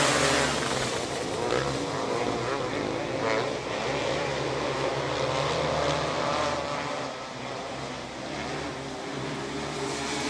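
Race cars roaring off at the start of a B-main event, a dense wall of loud engine noise from many cars revving together, sustained and blended throughout with a steady rough texture.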